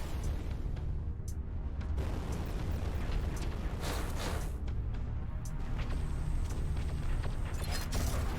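Torpedo explosions in the space-combat game Everspace 2 during a boss fight, a series of dull booming blasts and bursts rolling over a continuous low rumble, with no talking.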